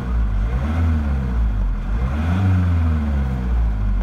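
A high-mileage diesel engine with a blocked particulate filter and limited power idles close by with a deep, rough rumble, its pitch rising and falling as it revs, loud and continuous with no talk.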